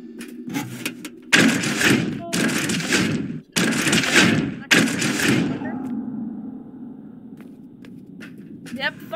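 Violent crashing and blasting from the Pandemonium monster tearing through an expendable in the Roblox game Pressure, loud harsh bursts that stop and start several times before settling into a low rumbling hum.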